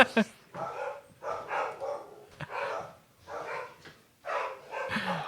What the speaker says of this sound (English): He's going to get the dogs, going to settle down the dogs.